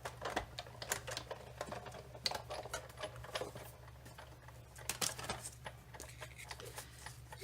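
A die-cutting machine rolls plates and a die through with a steady mechanical clatter and rapid ticking, continuous and close, while a soft voice talks.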